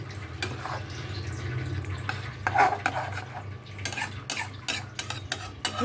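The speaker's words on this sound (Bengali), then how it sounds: "এবারে মাছটাকে এই মশলাটার সাথে আমাকে মিলিয়ে দিতে হবে" A spoon stirs pieces of tilapia into a spicy masala with oil and water in a pan for a hot and sour curry, scraping and clinking against the metal over a low simmering bubble, close up with no talk.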